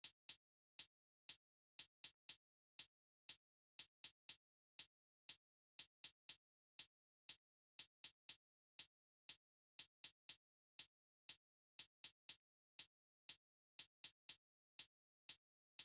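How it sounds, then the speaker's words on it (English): Crisp, rattling trap hi-hats for a type beat play alone, with quick bursts of rapid rolls between steady ticks repeating across the loop, bright and dry with no drums or voice underneath. "But yeah, the hi-hat pattern ended up sounding like this."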